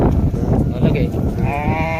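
A sheep bleats in a wavering, drawn-out call near the end, with voices talking and steady outdoor noise beneath.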